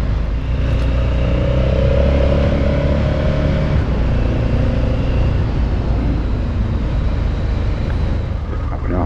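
A Honda Africa Twin motorcycle on a test ride gives a continuous close engine rumble under heavy wind buffeting, loud and unbroken for the whole stretch.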